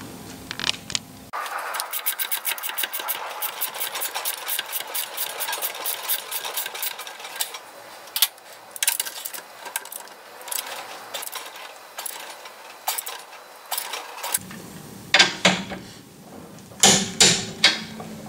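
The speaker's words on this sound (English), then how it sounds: "We have to torque this one up to 80 Newton." Ratcheting and clicking of a torque wrench tightening a new nut on a Volvo V70 Classic rear shock absorber during a Nivomat-to-standard-shock conversion, a steady run of close mechanical clicks followed by several sharper, louder clacks near the end.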